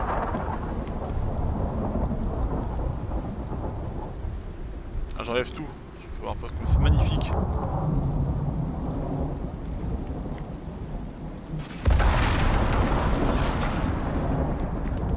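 A thunderstorm rolls through the Icarus survival game, with steady heavy rain and deep rumbling thunder that swells into a loud crack near the end. Someone talks over the storm throughout.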